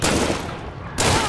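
A gunshot from the video game Hunt: Showdown booms twice in quick succession, each one a loud, broad blast with a rolling tail and a short gap between them.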